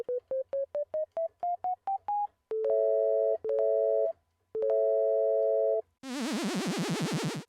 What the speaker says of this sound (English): So here is equal temperament. Here is 3-limit, and here is 5-limit.